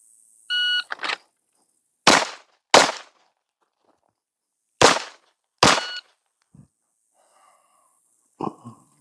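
Pistol shots fired at the 7-yard line on a shooting range, a timer beep followed by four sharp, loud cracks in two pairs, strong hand then weak hand, with a faint clatter at the end.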